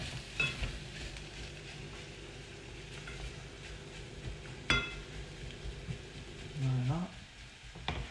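Cauliflower frying in a pan as it cooks down, a steady low sizzle running throughout with a few clinks of a utensil, while someone speaks briefly.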